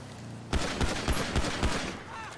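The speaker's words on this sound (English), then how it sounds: "Shots fired." Gunfire in GTA V during a police roleplay patrol near Sandy Shores: a rapid volley of about six sharp shots, evenly spaced over a second and a half, fairly loud and alone over a low background rumble.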